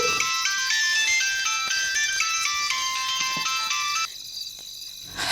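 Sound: phone ringtone ringing

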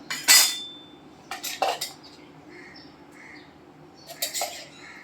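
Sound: tablespoon adding ghee to roasting semolina in pan

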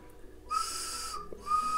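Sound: clay whistle whistling

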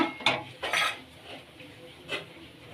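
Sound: stirring thickened milk with milk powder in a pot

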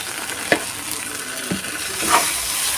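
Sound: frying spices with garam masala and sugar

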